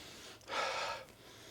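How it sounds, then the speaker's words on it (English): A single steady sniff of a Prada fragrance, close and fairly quiet, rising and fading over about half a second between still pauses. "So let's sniff it out."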